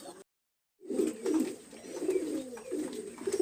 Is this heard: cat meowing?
no